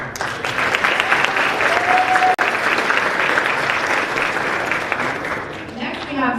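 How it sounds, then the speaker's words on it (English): Audience applause at a military family and community town hall, a dense, sustained wash of clapping from a large crowd that holds steady and then thins out near the end. "Big round of applause."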